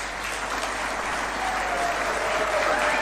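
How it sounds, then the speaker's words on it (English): Sustained applause from the audience at a State House event in Kenya, dense steady clapping that fills the room without a break. "Let's clap for that."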